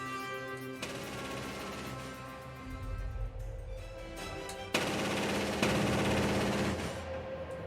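A Skyranger anti-drone cannon fires rapid bursts of airburst rounds at drones, the shots rattling out over a layer of tonal background music, growing denser and louder toward the end.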